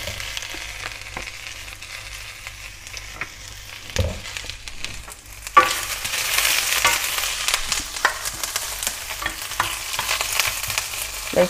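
Chives sautéing in hot oil alongside onion and carrot for a Korean pork stir-fry, with a low sizzle that grows louder and denser partway through, punctuated by utensil stirring and scraping clicks nearby.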